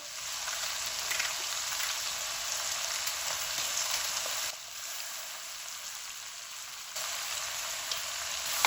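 Tomato, onion, ginger and garlic frying in oil in a pot, a steady dense sizzle that runs the whole time with slight dips in level, moderately loud and close, no voices.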